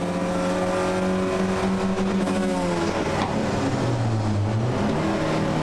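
Onboard a BMW 318 race car during a race, the engine drones loud and close, its pitch rising and falling as it revs through gears under constant road and wind roar.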